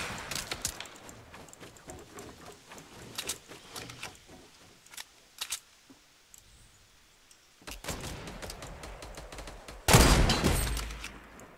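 Sniper fire in Fortnite Battle Royale: a series of sharp, separate cracks spaced out with quiet gaps, ending in a louder, heavier burst near the close.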